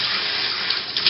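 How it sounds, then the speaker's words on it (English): Tap water gushes steadily through a pet wash shower head attached to a faucet, a loud, continuous close-up hiss of running water with no voices. "turn on the tap, switch it down to the shower"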